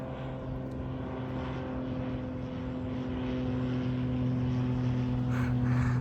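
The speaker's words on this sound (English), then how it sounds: "I hear another plane coming." Propeller airplane flying overhead near an abandoned coastal fort on Cushing Island, Maine: a steady droning engine with strong low tonal hum that swells gradually louder over six seconds, continuous and unbroken, with no talking.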